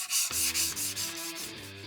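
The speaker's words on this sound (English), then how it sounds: "from this point forward, I'll be sanding by hand" Steady hand sanding with wet-dry sandpaper on a Yamaha Blaster 200 part, a close, rhythmic rasping scrub with repeated back-and-forth strokes and no talking.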